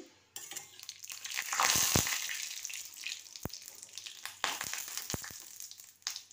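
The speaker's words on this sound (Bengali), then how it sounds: "এবার তেলটা গরম হয়ে গেছে, কারি পাতাগুলো ভাজা হয়ে গেছে।" Curry leaves frying in hot oil give a steady, close sizzle that swells for a moment, with a few sharp crackles and pops scattered through it.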